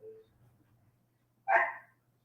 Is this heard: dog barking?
yes